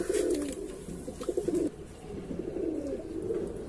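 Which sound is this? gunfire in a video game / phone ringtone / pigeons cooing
pigeons cooing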